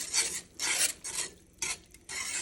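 Crawfish being stirred in a pot, a series of rough, scraping swishes in bursts with short pauses between them, close and fairly loud, with no talking.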